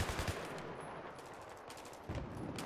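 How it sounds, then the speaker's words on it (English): Rapid machine gun fire in the Battlefield 3 video game, dense fast bursts of loud automatic shots at the start and again near the end, with a brief lull of quieter rattling between. "Big ass machine gun"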